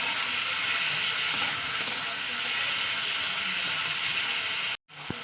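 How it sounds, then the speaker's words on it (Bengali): Tomato frying in oil in a pan, a dense continuous sizzle heard close and loud, with no voices, cut off by a brief silent gap just before the end. "তো দেখতেই পাচ্ছেন আমার টমেটোটা প্রায় ভাজা হয়ে এসছে কষিয়ে নিয়েছি"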